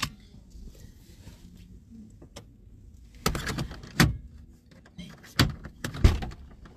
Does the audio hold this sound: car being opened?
yes